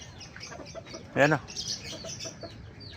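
One loud nearby cluck from a backyard chicken stands out over softer scattered clucks, while someone speaks briefly.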